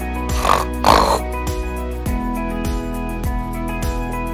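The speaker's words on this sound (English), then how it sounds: "P I G, pig." A pig oinks in two short, loud grunting bursts close together, followed by background music continuing on its own.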